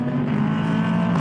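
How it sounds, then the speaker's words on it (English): Older V8 engine of a yellow Ligier race car screaming at high revs during a GT endurance race at Slovakia Ring, a steady, loud, sustained tone throughout. "as you can hear right now, the V8, the older V8, is still screaming from the yellow Ligier"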